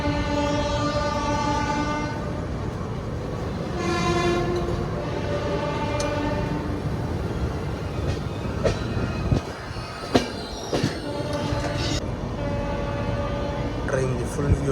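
Visakha Express passenger train on the Vijayawada to Srikakulam route, heard as a steady loud rumble of rolling wagons with a long sustained horn blast near the start and more horn tones later, plus clanks and squeals.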